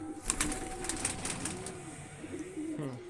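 Pigeons coo in soft, repeated rolling phrases through most of the stretch, with faint chirps and background noise around them.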